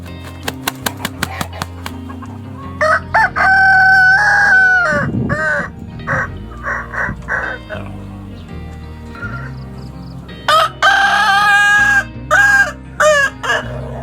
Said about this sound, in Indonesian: apabila ayam tersebut berkukuk panjang, tapi setelah panjang terdengar rasa mehibah, itu dinamakan ayam gayung luluh.